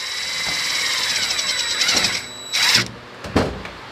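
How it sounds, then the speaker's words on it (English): A power drill whines at high pitch for a couple of seconds, then short bursts of the motor revving as it drives into a Masterbuilt digital charcoal smoker, close up. "So it's just above the hole and drill it in."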